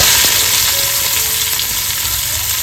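Mustard seeds and onion sizzling in hot oil in a kadhai while tempering for matar paneer, a steady close frying hiss with faint crackles and a few clinks.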